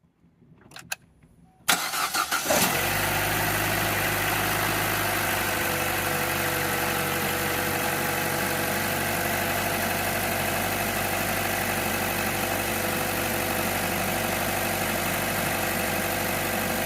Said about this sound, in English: why don't I start up to see if this engine turns over